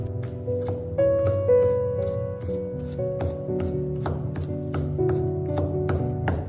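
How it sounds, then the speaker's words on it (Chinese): A kitchen knife minces sliced garlic into fine bits, sharp rhythmic chops tapping out close and even over soft background music. "然后再改刀剁成蒜末。"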